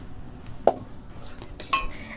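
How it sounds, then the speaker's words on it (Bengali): A wok is lifted off the stove with two distinct metallic knocks, one sharp clank early and another clink and rattle later, over a faint background hiss. "এবার আমি কড়াইটা নামিয়ে নিচ্ছি"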